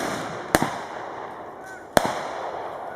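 An MG42 machine gun fires two sharp, isolated reports outdoors at a historical reenactment event, each one loud and cracking with a short decay, spaced well apart against faint ambient noise.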